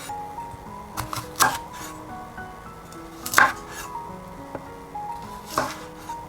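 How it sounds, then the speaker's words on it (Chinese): A kitchen knife cuts a loquat into quarters, giving three crisp, separate chops against a cutting board spaced about two seconds apart, with soft background music underneath. "枇杷给它切成4瓣"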